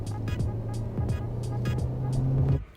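A Ferrari 458 Italia drives on a wet, low-traction road, its engine droning steadily from inside the car with a few shift-like changes in pitch before the sound drops away sharply.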